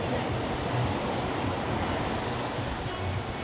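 Surf rolls onto a beach at Tangalle on Sri Lanka's coast, heard from a nearby restaurant as a steady, dense wash of breaking waves with no pauses and no talk.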